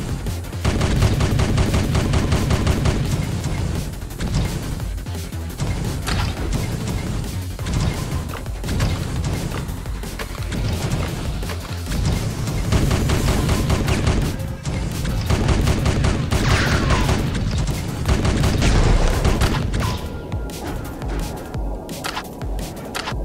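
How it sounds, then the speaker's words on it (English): A minigun fires nonstop in the video game Choke Point, a dense, loud roar of rapid shots with crashing impacts that runs without a break for over twenty seconds. "So minigun is just what it says. Super powerful, it's got pretty good spread."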